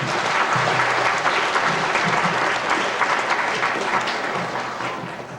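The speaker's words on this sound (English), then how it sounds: "Round of applause for Alexander." A school audience at a 1992 fourth-grade spelling bee applauds a speller, with dense, steady clapping filling the room before it fades slightly toward the end.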